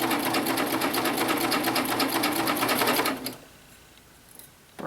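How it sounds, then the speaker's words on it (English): A sewing machine running a cover stitch on a t-shirt whirs in a fast, even, close-up chatter for about three seconds, then stops, leaving quiet room tone before a brief sound at the end. "You could definitely do this with a double needle on the sewing machine, but I have the cover stitch capability"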